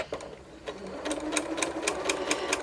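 A sewing machine stitches quilt fabric for half-square triangles, a close, steady run of rapid rhythmic needle strokes after a brief start-up.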